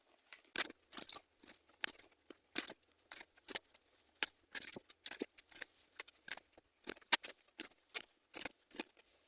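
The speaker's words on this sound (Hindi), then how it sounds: "चलिए कुछ कार्ड्स लेते हैं" Tarot cards are shuffled and drawn by hand, a quick series of crisp close riffling snaps and flicks in short irregular bursts over a near-silent background.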